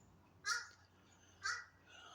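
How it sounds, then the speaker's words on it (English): Outdoors, a bird gives two harsh, crow-like caws about a second apart. The calls sound moderately distant over a faint, quiet background. "I hear you, whatever kind of bird that is"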